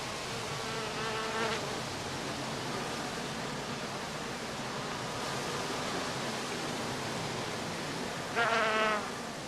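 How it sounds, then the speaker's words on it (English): Honey bees forage on blooming heather in a skep apiary outdoors, a dense steady hum of many insects, with a couple of individual bees buzzing close past. "In good weather, the bees now find plenty of pollen and nectar in the blossoms of Calluna vulgaris"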